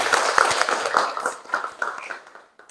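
A small classroom group applauds after a presentation in a short, dense burst of clapping that tapers off at the end, with no voices.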